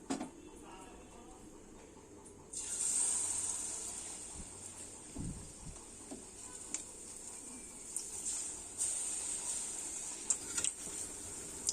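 Steady bright sizzling hiss of Mysore bondas frying in hot oil, starting abruptly and continuing evenly with small crackles and pops, close and fairly loud.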